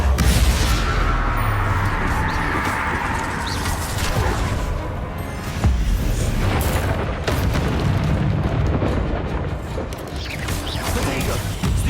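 Confringo and Bombarda spell blasts in the video game Hogwarts Legacy form a dense, continuous wash of booming, crashing impacts. A voice is heard over the din.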